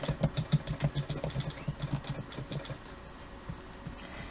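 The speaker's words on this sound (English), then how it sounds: "So right now I have old typewriter sound." Rapid clacking keystrokes of an old typewriter sound effect in a steady, busy rhythm, close and fairly loud, thinning out toward the end.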